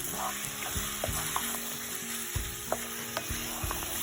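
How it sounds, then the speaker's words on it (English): Mutton sizzles and fries with masala in a pan, a steady close hiss broken by soft scraping knocks as a spoon stirs it every second or so. "Keep keep on stirring for 2 minutes until all the masala which goes into the meat."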